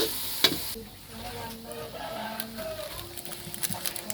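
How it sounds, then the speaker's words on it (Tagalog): Chicken sizzles in a pan while being sautéed and stirred, with scraping and clinking of a utensil and a steady frying hiss underneath. "Igisa muna natin sa halo-haloin."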